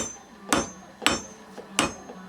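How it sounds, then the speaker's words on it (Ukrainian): A blacksmith's hammer strikes hot iron in a Boyko-style smithy: three loud, ringing blows at a steady, unhurried pace, close by, with quiet pauses between them and no talk. "Поки воно гаряче, коваль його мене. Але мене не пальцями, а молотком."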